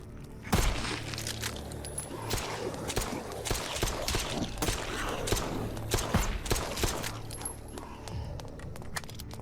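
Gunfire from a laser-sighted weapon in the zombie survival game Night of the Dead: irregular sharp shots, some in quick bursts, mixed with other game noises and a voice in the background.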